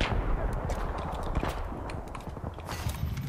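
Rapid M5K gunfire in a video game, a dense run of sharp close shots crackling without a break through the whole stretch.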